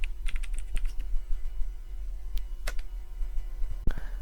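Commands are typed on a computer keyboard in a burst of quick, light, irregular clicks. The keystrokes are close but soft over a low, steady hum, and one sharper tap lands near the end.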